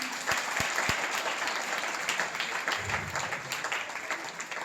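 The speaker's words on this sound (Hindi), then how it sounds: "मैं चाहती हूँ दोनों हाथ उठाकर एक बार इनके सम्मान में तालियां होनी चाहिए।" A crowd at a Jain poetry gathering in a temple in Surat claps in sustained, even applause honouring a poet, with a few dull thumps near the start.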